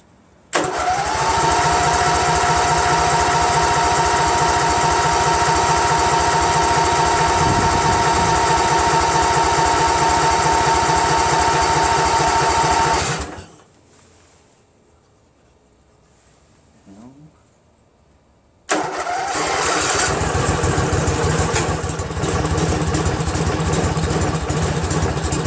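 A Briggs & Stratton Vanguard 16HP engine on a Craftsman GT6000 garden tractor runs loud and steady up close, cuts out into near silence for several seconds, then fires up and runs again.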